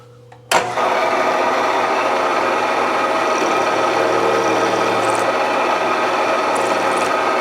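A power tool starts abruptly and runs at a loud, steady mechanical whine while dimpling a homemade motorcycle axle for a Yamaha DT2 250MX, continuing unbroken with no speech.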